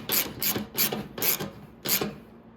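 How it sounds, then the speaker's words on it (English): A socket wrench ratchets a 12 mm bolt back into a Venom x22R 250cc motorcycle. About five short, rhythmic bursts of clicking rasp sound up close, with no voices. "Now I'm going to get my socket so I can go ahead and put my 10 mil back in."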